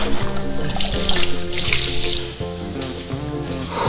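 Water pours and splashes indoors as rain leaks into a house during a typhoon, a steady nearby rush and trickle with faint voices in the background.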